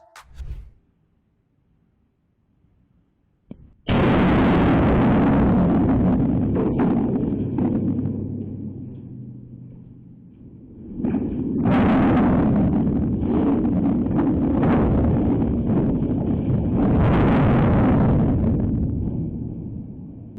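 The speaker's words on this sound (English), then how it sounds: "a demolition team detonated explosives that were connected to the base of the turbine" Explosives detonated at the base of a giant wind turbine burst out of near silence as a sudden loud boom, then a long heavy rumbling roar that swells again as the structure comes down, with wind buffeting the microphone.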